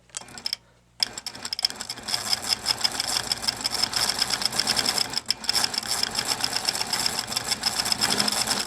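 A sewing machine doing free-motion quilting with its stitch regulator on hums and clatters close by. A brief pause near the start gives way to steady, fast stitching with slight stop-start surges, and no voice is heard.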